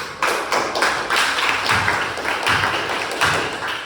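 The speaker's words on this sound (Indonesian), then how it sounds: "Tepuk tangan untuk jawaban kelompok 1." An Indonesian classroom applauds a group's answer with firm, evenly spaced claps in unison, about two per second, close and loud with no talking.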